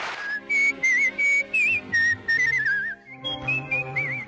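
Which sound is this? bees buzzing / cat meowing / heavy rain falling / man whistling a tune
man whistling a tune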